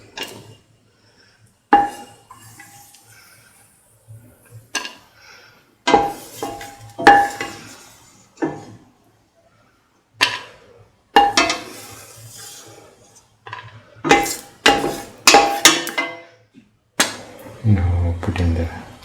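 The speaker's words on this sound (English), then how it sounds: "take off the pan and onto the plate." Cooked sweet coconut milk pasta is scraped and lifted from a pan onto a plate, giving scattered metallic clinks and scrapes of utensil on cookware in short bursts separated by quiet pauses, close and fairly loud.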